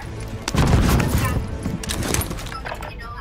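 Gunfire in the Warzone video game: a burst of close, loud shots and thuds at the start, trailing into scattered cracks, with a voice speaking alongside.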